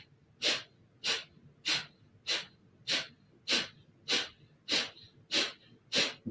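Rhythmic yoga breathing with the belly pumping in and out: about a dozen sharp, forceful nasal exhales come at an even, quick pace, close and clear, with no talk.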